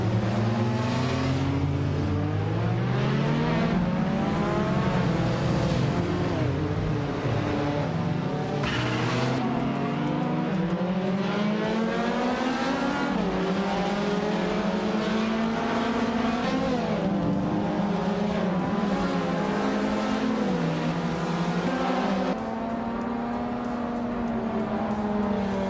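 A 1973 Triumph Dolomite Sprint race car roars through a race, its engine note rising and falling steadily with gear changes, loud and continuous alongside other cars, with brief tire squeal.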